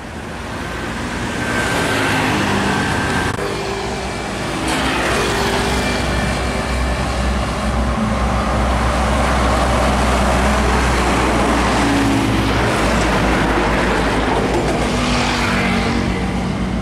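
A long, heavily loaded tronton trailer truck passes on a busy highway, its loud diesel roar swelling and holding close with traffic noise around it, continuous for over fifteen seconds.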